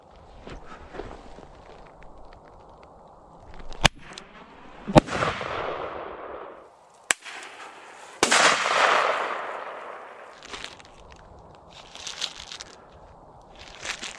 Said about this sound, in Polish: Jeszcze jedna raca hukowa. Tutaj mamy ładunek prochowy, a tu mamy taki plastik.